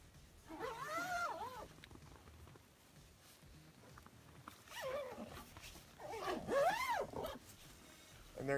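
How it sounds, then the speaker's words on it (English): The zipper of an Amok Draumr 3 hammock bug net is pulled closed, giving a few rasping sweeps separated by quiet pauses, close and fairly soft. "There's pull strings on the inner and outer side of the zipper."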